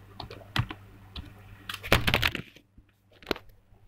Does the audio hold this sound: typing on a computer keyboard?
yes